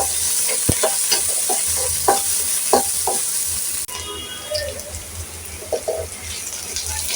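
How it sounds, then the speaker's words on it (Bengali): Onions frying in oil with a continuous sizzle and spatula scrapes and taps, a brief sharp knock near the start and a slight shift in background partway through. "পেঁয়াজটা একটু হালকা ভাজা ভাজা করে"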